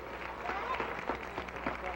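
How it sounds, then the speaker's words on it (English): Audience of children applauding the staff at the close of a 1992 Sesame Street live show, steady crowd clapping at moderate distance with a voice speaking over it. "Big round of applause for the staff of Sesame Street"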